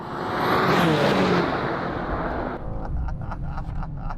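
BMW XM and BMW M2 G87 in a drag race: a loud, close engine roar swells and sweeps past, then falls to a quieter, steadier drone with faint ticking sounds.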